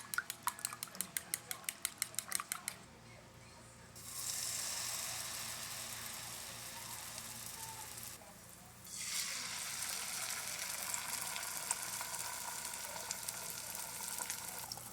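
A fork taps quickly and rhythmically against a bowl as eggs seasoned with house seasoning and pepper are mixed. Then a steady, moderately loud sizzle of frying in a pan takes over, fading briefly and returning.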